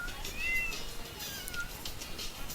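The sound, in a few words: cat meowing in video game Tasty Planet: Back for Seconds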